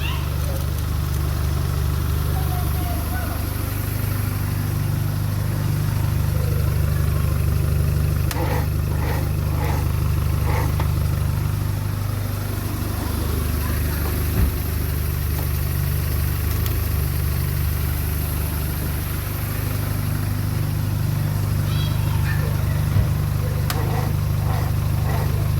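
A Volkswagen Golf Mk2 engine runs steadily at idle close by, a continuous low rumble with faint clicks and knocks over the top, unbroken for the whole stretch.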